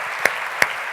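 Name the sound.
congregation clapping hands for God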